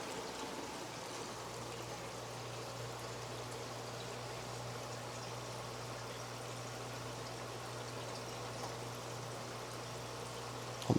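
Water runs continuously through a plywood sump tank under a plywood tank, a steady close trickle and flow with a low constant pump hum beneath it and no voices.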